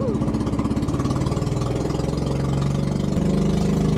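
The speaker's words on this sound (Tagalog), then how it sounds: "At ayun na nga guys, tumatakbo na itong jet ski." A small engine on a homemade wooden plywood jet ski runs steadily close by, a loud, rough, pulsing idle-like drone that holds throughout with a slight shift in pitch near the end.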